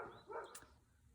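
Dogs give a single short bark from indoors to signal they are done, heard faint and distant over quiet outdoor ambience.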